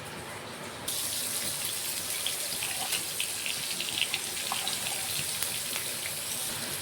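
Whole garam masala of cinnamon, cardamom and cloves drops into hot oil for a Bengali fish curry, setting off a sudden, steady close sizzle that hisses on with small crackles.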